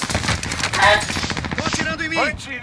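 Rapid machine gun bursts crackle in a Call of Duty Warzone match, loud and close and mixed with other game effects, while a player talks over the shooting.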